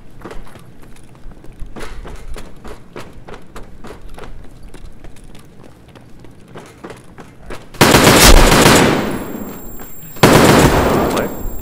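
Bursts of automatic gunfire in the video game Escape From Tarkov: a rapid run of faint, distant shots, then two loud, close volleys of sustained fire that cut in abruptly.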